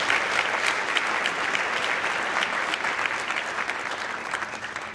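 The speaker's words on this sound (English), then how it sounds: "Let's give him a round of applause." An audience at the Farmingdale High School winter concert gives a round of applause, loud and crisp at first and then gradually fading over five seconds.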